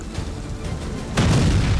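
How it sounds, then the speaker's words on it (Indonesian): A car's gas tank explodes in a sudden loud boom about two-thirds of the way through, followed by a sustained roaring rumble after a quieter buildup. "Tangki gasnya meledak."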